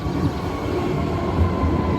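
A train rumbles steadily and loudly nearby, a continuous heavy rolling roar of rail cars with no voices.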